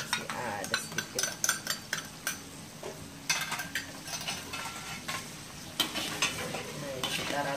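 Beef semur with sweet soy sauce is stirred in a pan as it sizzles steadily. A utensil scrapes and knocks against the pan in an irregular, close rhythm.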